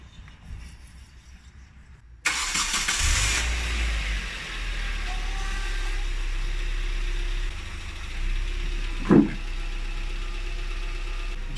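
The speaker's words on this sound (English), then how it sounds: "Just gonna let the car run for a bit while it warms up" A Hyundai Tiburon engine cranks and catches after a quiet start, then settles into a steady, close idle with a low rumble, alone and without talk.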